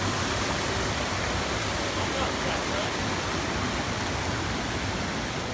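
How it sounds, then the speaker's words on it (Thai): A forest waterfall roars as a steady, dense rush of falling water, constant and fairly loud throughout with no pauses. "น้ำตก"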